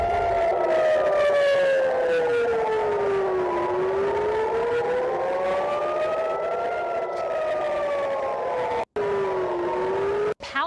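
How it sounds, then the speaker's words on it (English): Air raid sirens wail over Tel Aviv during a missile barrage, loud overlapping tones slowly rising and falling in long continuous sweeps, with no voices over them. "Sirens sounding over Tel Aviv as a barrage of missiles hit the nation."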